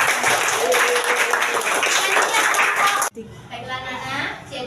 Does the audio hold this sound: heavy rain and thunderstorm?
no